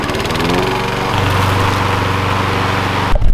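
A lawn mower cuts a field in Nebraska in summer, its engine droning loud and close with a steady buzzing hum that rises slightly in pitch partway through, then cuts off abruptly at the end.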